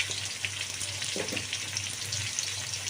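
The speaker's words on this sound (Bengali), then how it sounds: "তো আলুটাও একটু ভেজে নেব সামান্য নুন হলুদ দিয়ে" Potato pieces fry in oil with a little salt and turmeric for a fish curry, giving a steady close crackling sizzle with a faint stir partway through, and no one speaking.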